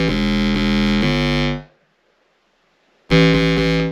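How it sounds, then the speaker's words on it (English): A buzzy, raw, dry mono square-wave synth bass plays a steady repeating note with no processing, cuts out into near silence, then returns loud and bright. "it's a square wave set into mono"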